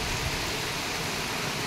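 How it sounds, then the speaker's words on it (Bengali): Heavy monsoon downpour in a Bengal neighbourhood, a dense, steady broadband hiss of rain with no gaps, loud and close. "আপনার পাড়াতেও আশা করি বৃষ্টি হচ্ছে"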